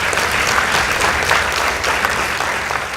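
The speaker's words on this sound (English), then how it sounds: "Kindly give them a round of applause." An audience at a high school debate competition applauds the winning team, loud dense clapping that holds steady for the whole stretch.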